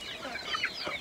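Chicks and hens at feeding time on a farm cluck and peep in short, close calls over a soft steady background, with no talking.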